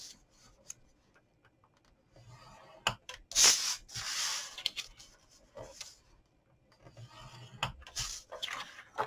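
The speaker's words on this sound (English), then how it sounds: "we're going to score 3 sides at 1 inch" A scoring tool presses and drags across a paper gift bag, giving soft, scattered scratches and ticks close by, with a couple of louder rasping strokes in the middle.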